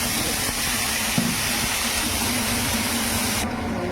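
Potatoes dropped into hot oil with a dried chili and bay leaf, giving a steady, loud, close sizzle that hisses continuously before easing near the end.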